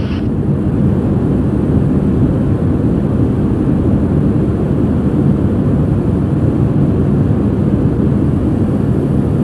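An aircraft engine at rated power just after takeoff with flaps retracted, a loud, steady low droning roar filling the cabin without letup.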